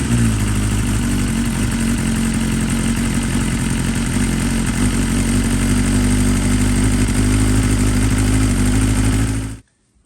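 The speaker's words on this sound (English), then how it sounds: "we're going to start the motor" A 2020 BMW S1000RR motorcycle engine runs steadily at close range, a loud continuous idle with a strong low rumble, cutting off abruptly just before the end.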